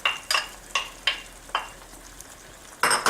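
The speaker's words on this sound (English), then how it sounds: "we just want to drop in here the bacon that we cooked earlier" Cooked bacon dropped into a hot frying pan with creamy shrimp and mushroom fusilli, giving a few sharp bursts of sizzling and stirring that fade between drops, then a louder sizzle at the end.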